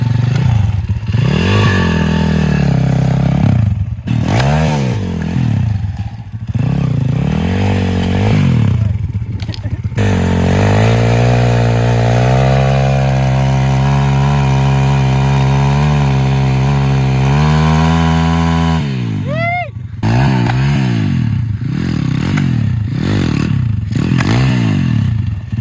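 A pit bike fitted with office chair wheels roars and revs close by, its loud buzzing engine rising and falling, with scraping and clattering as it rolls, and people shout and talk over it.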